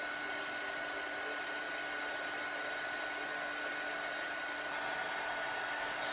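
A handheld craft heat dryer blowing over a cardmaking project, a steady close, loud whooshing hum with a faint whine that holds unchanged throughout.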